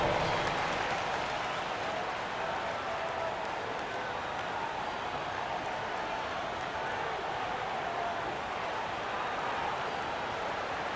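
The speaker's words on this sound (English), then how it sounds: "Give yourself a round of applause." Steady, dense applause from a large crowd in the NBA 2K25 basketball video game, continuous and even throughout, with no pauses.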